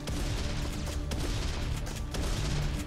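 Shotgun blasts in the first-person shooter Serious Sam 3: BFE, a dense, loud stretch of repeated gunfire with sharp bursts around the one- and two-second marks over constant game noise.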